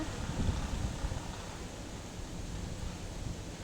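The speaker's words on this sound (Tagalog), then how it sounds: "Ang hangin! Ang lamig ko eh." Wind buffets the microphone in a steady, rumbling roar with gusty low-end swells, no voices present.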